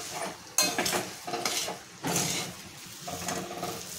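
Vegetable filling for samosas, with cooked peas and salt, is stirred and sautéed in a pan. Sizzling frying runs throughout, broken by repeated scraping stirs in uneven bursts, close and moderately loud, with no talking.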